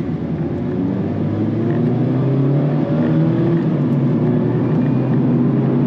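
A 2024 Mazda MX-5 Miata's engine drones steadily and loudly from inside the cabin while driving, with a sustained, even engine tone that shifts slightly in pitch over several seconds.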